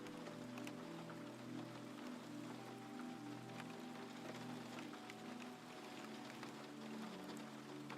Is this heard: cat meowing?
no